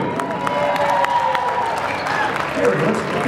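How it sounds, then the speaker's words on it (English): Crowd at a flair bartending competition clapping and cheering for a competitor, a continuous loud mix of applause and shouts with voices talking over it. "let's give him a warm round of applause"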